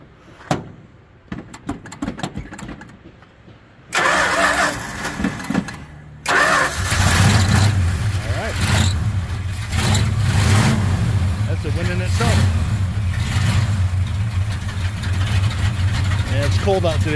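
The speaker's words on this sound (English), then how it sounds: "we'll try firing her up" A 1984 Dodge Ram D150 pickup starting cold on a chilly day: a few short cranking bursts and a pause, then the engine catches and settles into a steady, rumbling idle that runs to the end.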